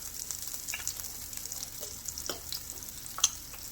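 About two tablespoons of butter sizzling and frying in a hot pan for a stuffed pork loin with apple rum butter sauce, a steady close crackling hiss with scattered sharp pops throughout.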